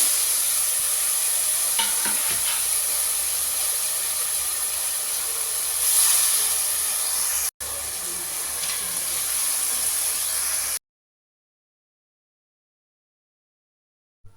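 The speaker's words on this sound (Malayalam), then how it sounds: "ഇനി വേവിച്ച് വെച്ച ചിക്കനും കൂടിയും ചേർത്ത് മിക്സാക്കി കൊടുക്കുക" Cooked chicken and ground spices are mixed in a hot frying pan, a loud hissing sizzle broken by spoon scrapes and a brief dropout, then silence for the final few seconds.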